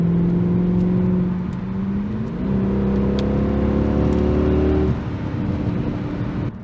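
A Mercedes W211 E63 AMG with its secondary catalytic converters deleted, heard from inside on a drive, its engine revving hard and climbing through gears with a loud, continuous exhaust drone and audible shifts.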